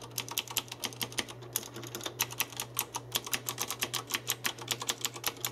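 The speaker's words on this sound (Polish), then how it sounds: "jak działają same przełączniki Cherry MX Blue? Posłuchajcie, mają specyficzny klik," Rapid typing on a mechanical keyboard with Cherry MX Blue switches and an aluminium case, crisp, loud clicky keystrokes in a fast, uneven rhythm, close up, over a faint low hum.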